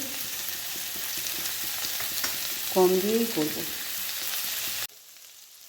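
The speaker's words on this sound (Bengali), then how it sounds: "আলুটা বেশ হালকা করে ভাজা হয়ে গেছে পেঁয়াজটাও একটু বেশ ভালোই ভাজা হয়ে গেছে" Sliced potatoes and onions frying in a pan give a steady close sizzle with light stirring, while someone speaks briefly over it before the sound cuts off.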